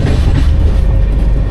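A passenger train runs on rails on a journey toward Rameshwaram, a loud, steady rumble with faint clickety-clack heard from inside the carriage.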